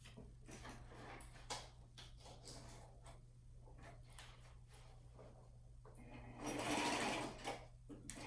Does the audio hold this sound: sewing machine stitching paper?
yes